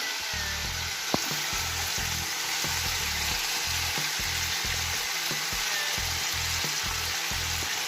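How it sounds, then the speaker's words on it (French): Onions frying in a pan for a homemade poulet basquaise, a steady sizzle under repeated low clattering and stirring knocks, with one sharp tap partway through and no talking. "Je vais rajouter mes oignons."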